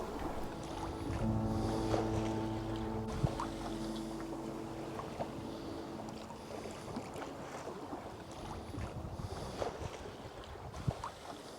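A low, steady engine drone from a sailboat motoring to an anchorage off northeast Sardinia, mixed with wind rush and water noise.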